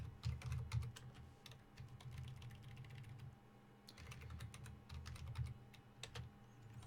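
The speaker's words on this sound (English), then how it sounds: "you probably hear me pressing my keyboard here" Rapid clicking of keys on a computer keyboard, close and steady, with short bursts and brief pauses between runs of typing.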